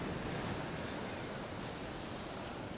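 Ocean surf at a beach, a steady loud wash of breaking waves with some wind across the microphone and no voices.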